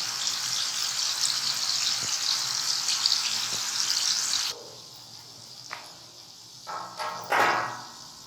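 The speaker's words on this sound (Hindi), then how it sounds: "ये देखिए कबाब बहुत अच्छे से ये गोल्डन फ्राई हो गए हैं" Noorjahani kebabs fry in a pan with a dense, steady sizzle that suddenly cuts off partway through, followed by a few faint clinks and brief scraping sounds.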